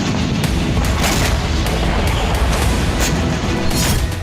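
Missile and drone strikes at Sevastopol bay, a dense loud barrage of booms and rapid blasts rolling continuously without pause.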